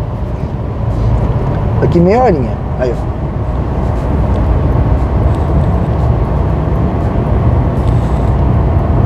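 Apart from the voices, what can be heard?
heavy car traffic on the road to Santos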